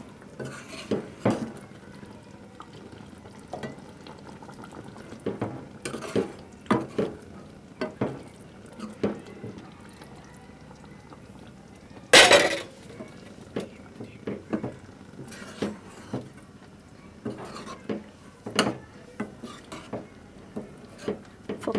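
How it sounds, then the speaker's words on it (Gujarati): Stirring a pot of Gujarati-style drumstick (saragva) curry thickened with gram flour: repeated scraping clinks of a spoon against the pot bottom at an uneven rhythm, close up, with a louder clatter partway through and no talk. "આ રીતના થોડું હલાવવાનું છે, નીચે નીચે ચોંટી ન જાય"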